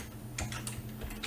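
Keystrokes on a computer keyboard while typing text, a few irregular clicks in quick succession over a steady low hum, fairly close and moderately quiet.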